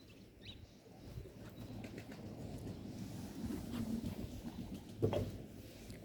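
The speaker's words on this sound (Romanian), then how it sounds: "Aici o găinuță." A hen flaps its wings in a quiet farmyard poultry shed, giving a faint fluttering rustle and one sharper burst of flapping near the end, with soft bird chirps in the background.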